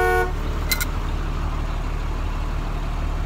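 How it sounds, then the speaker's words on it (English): A school bus horn gives one short, sharp honk, triggered by touching a spring to its contact disc. A low, steady engine-like hum continues underneath and after the honk. "So if I just take the spring and touch it to this disc, it's going to honk."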